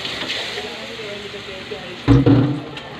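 Oil sizzles and crackles steadily in a pan, with a sudden louder burst of sizzling near the end as shrimp hit the hot oil.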